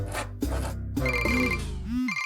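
A phone rings in a classroom with a bright electronic ringtone: a few gliding tones and repeated chirps, fairly close and alone, with no talk over it.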